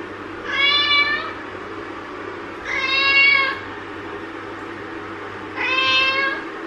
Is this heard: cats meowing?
yes